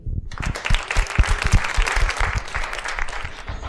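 A festival audience at a literature and education event claps loudly and energetically, with sharp individual claps standing out in a dense, rising round of applause that begins abruptly and stays strong to the end.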